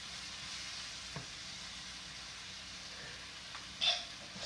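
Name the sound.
stirring chicken quesadilla filling with cheese and pepper in a pan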